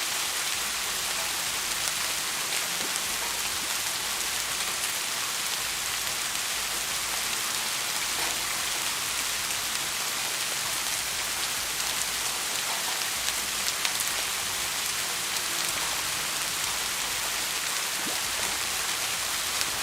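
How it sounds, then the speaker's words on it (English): Steady rain pours down throughout a fishing outing, a dense, even hiss of drops on surfaces with no letup and no talking. "It's still raining."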